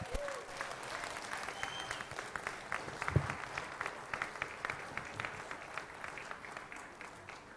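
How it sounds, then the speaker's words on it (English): Officers and directors of the Texas Auctioneers Association receive a round of applause at the auctioneer contest finals, with dense, steady clapping from a large audience filling the hall. "A round of applause."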